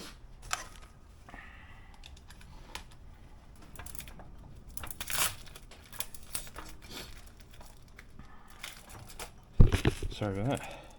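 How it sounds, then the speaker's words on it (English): Plastic wrapping being torn and crumpled off a new electric shed hoist, with intermittent crinkling and tearing bursts close by, louder near the end, and someone speaking at moments between the handling noises. "I've just got to unwrap all this"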